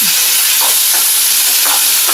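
Tomatoes sautéing in a pan give a steady, loud broadband sizzle and hiss with a few soft scraping stirs, no voices present.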